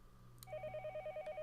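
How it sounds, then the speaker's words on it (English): In the visual novel Higurashi no Naku Koro ni, a telephone rings with a rapid, even electronic trill of short repeated pulses, fairly quiet but clear, following a brief click. "The phone suddenly rang."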